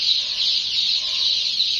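Newly bought black chicken chicks resting after a drink of water, giving a dense, steady chorus of high peeping and clucking that fills the whole stretch at an even, close level with no talk.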